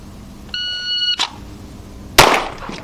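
A pistol slide racked during carbine and pistol drills, heard as a sharp metallic clack early on, then a louder, harder slide snap a second later, after a brief electronic beep.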